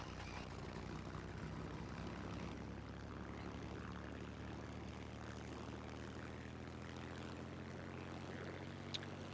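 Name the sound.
Ju-87 plane engine in Garry's Mod video game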